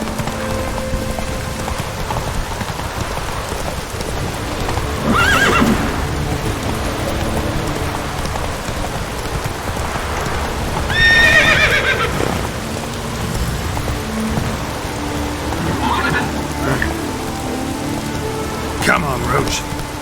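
Roach, a horse in The Witcher 3: Wild Hunt, whinnies through a steady patter of rain, with a few sharper neighs rising over the continuous wet backdrop and faint hoof clatter.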